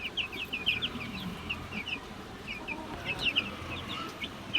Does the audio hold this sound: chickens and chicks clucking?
yes